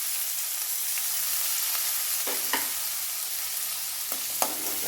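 Chopped large onion frying in oil in a pan for a bottle gourd milk curry, a steady soft sizzle with a few brief stirring clinks and scrapes, close and moderately quiet, no talking.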